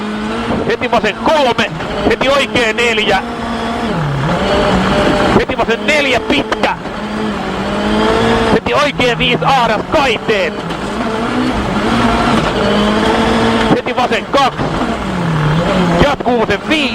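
A rally driver's car at the 2011 Rally Sweden revs hard, its engine rising and falling through gear changes, with tires spinning and scrabbling loudly under continuous in-car voices.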